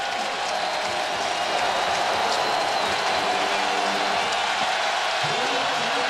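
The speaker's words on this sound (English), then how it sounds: "Crowd trying to get in it." A college football stadium crowd roars during a fourth-down play, a broad, continuous wash of distant cheering and noise with no clear breaks.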